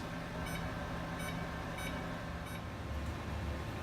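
An oven timer gives four evenly spaced high electronic beeps about two-thirds of a second apart, heard faintly over a steady kitchen background hum and rumble.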